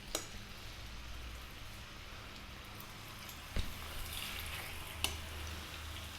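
Beef pieces browning in hot sunflower oil in a pan over above-medium heat, a steady low sizzle and crackle with a couple of sharp pops where meat goes in.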